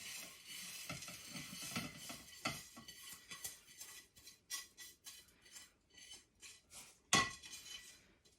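A spoon mixes a Dubai-style chocolate filling with pistachio paste, making quick, close scraping strokes against a bowl in an uneven rhythm, with a sharp clink near the end.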